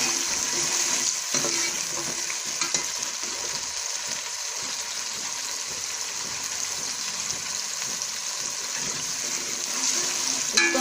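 Chopped tomatoes and green chillies fry steadily in a pan for green onion curry, a continuous close, dense sizzle with faint stirring scrapes and no voices.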